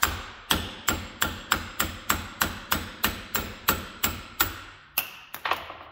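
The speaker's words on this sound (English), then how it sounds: "Couple of taps." A hammer strikes a 3/4 inch socket to drive out a bearing, giving about a dozen sharp, evenly spaced metallic taps close by, followed by a few quicker, lighter knocks at the end.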